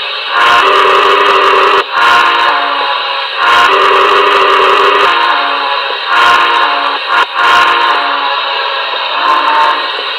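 A model steam locomotive whistle from a Paragon 2 Hudson blows in several loud, separate blasts, its tone shifting between pitches, with brief gaps of quiet between them.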